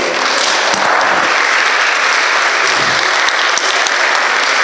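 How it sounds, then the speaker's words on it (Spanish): A loud, steady round of audience applause greets a woman invited on stage at a breast cancer talk, with many hands clapping close by and unbroken for several seconds. "recibamos con un fuerte aplauso a la señora Teresita Gala Potenciano"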